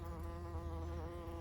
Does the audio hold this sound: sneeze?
no